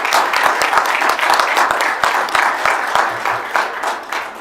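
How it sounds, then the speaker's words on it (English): An audience at a commission meeting claps steadily, a dense, even patter of many hands at moderate distance that holds for several seconds and thins slightly toward the end. "give these guys a round of applause for all their hard work and effort"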